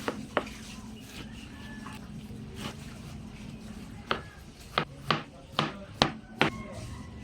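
A knife slices through cooked banana heart on a cutting board, a few faint taps early on, then a quicker run of six or so sharp chopping knocks close by.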